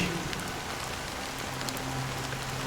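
Rain falling steadily on surfaces, a dense continuous hiss of drops at even loudness throughout, with faint low tones underneath and no talking.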